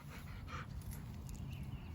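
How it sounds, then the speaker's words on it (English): A pet dog pants close by in a home garden on a June afternoon, a steady breathy rhythm against an even outdoor background hiss. "That's my dog, Guppy."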